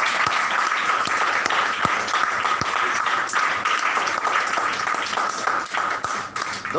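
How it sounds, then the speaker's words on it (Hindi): Loud, sustained clapping from a gathered audience at a Christian teaching session on baptism, with a few sharper individual claps standing out from the dense wash of hands. "मेरे यीशु के बपतिस्मा के लिए एक बार जोरदार तालियां।"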